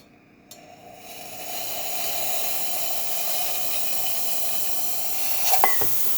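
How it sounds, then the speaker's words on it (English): A La Pavoni espresso machine's steam wand lets out a steady, strong hiss that keeps going for several seconds after a brief quiet start, with a few small clicks near the end. "Nice, strong, clear steam."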